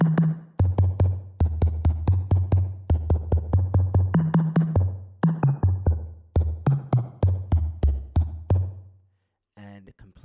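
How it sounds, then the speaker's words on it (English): A synthesized tom drum built in Reaktor Blocks, layered with a deep low thump, plays a busy rhythmic pattern of punchy hits with a reverb tail, close and loud, ending in a short pause and a few final hits. "So I've added a little bit of reverb on the end here to really bring out that tom sound"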